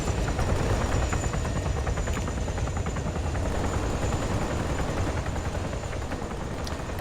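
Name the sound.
helicopter flying in ARMA 3 video game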